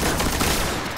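Heavy weapon gunfire in the Destiny video game, a dense, continuous barrage of loud rapid shots with no pauses, filling the whole moment up close.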